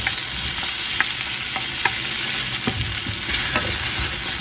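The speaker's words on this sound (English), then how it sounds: "We're going to go in with some olive oil so that we can crispy up our potatoes" Potatoes sizzle steadily in olive oil in a pan, a dense continuous frying hiss with occasional soft clicks of stirring.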